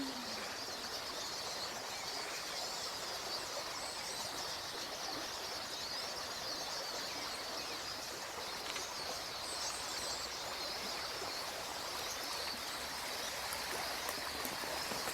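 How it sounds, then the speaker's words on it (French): Outdoors in nature, a river rushes steadily with a continuous wash of water noise, and faint bird song can be picked out only indistinctly beneath it. "Entendez-vous le bruit des oiseaux?"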